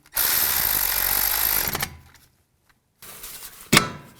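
A power tool whirs for about two seconds while snugging a bolt on a 2004-08 Nissan Maxima front strut assembly, then a pause, followed by a short clatter and a sharp metallic knock.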